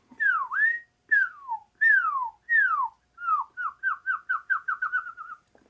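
A person whistles an imitation of a cardinal song: a few slow downward-sliding notes, then a fast run of short repeated chirps, clear and alone.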